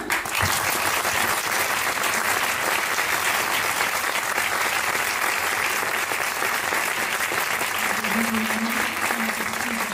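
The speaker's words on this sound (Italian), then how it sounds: "Vi chiedo un grande applauso" Steady, dense applause from a concert audience greeting a visiting high school symphony band, continuous and even for the whole stretch, with a faint hum entering near the end.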